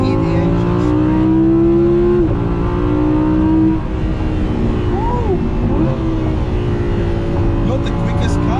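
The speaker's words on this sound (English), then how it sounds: "downshift, you can hear the engine scream" A supercar engine revs hard on a downshift, a loud, close, rising scream with rapid pitch jumps between gears that settles into a throaty burble, with voices faintly underneath.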